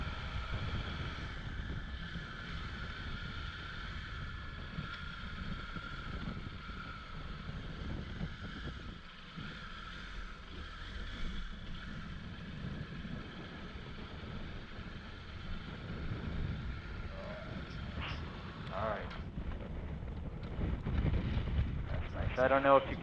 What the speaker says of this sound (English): There's some wind up here.